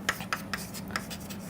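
Chalk or marker strokes on a board during a welding microstructure lecture, a handful of short scratchy taps spaced irregularly over a steady room hum, fairly close and quiet.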